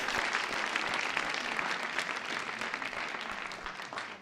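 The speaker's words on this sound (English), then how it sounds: "let's have another round of applause for Laura and all of our panelists." Audience applause for Laura and a panel at the World Bank Youth Summit, a steady dense wash of clapping that holds evenly, then tapers off at the end.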